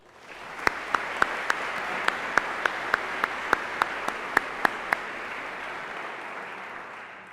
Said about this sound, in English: But we can start by giving them a round of applause.